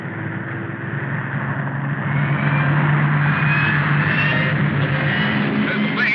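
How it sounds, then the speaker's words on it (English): A steady engine drone that grows a little louder and holds, like a propeller plane flying past at moderate distance. "There's the plane."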